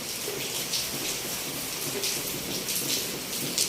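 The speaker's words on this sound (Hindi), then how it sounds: "बहुत तेज़ बारिश स्टार्ट हुई है।" Heavy rain pours steadily outdoors at a home, a dense continuous hiss of drops with some splashing on surfaces, loud and close throughout with no talk.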